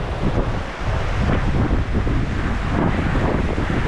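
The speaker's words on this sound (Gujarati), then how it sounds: "પાછો પવન છે એટલે દરિયાના મોજા જેવા મોજા ઉછળે છે" Wind and rain whip up sea-like waves on the full Malanka dam reservoir, heard as loud, constant roaring wind buffeting the microphone over churning water, with no speech.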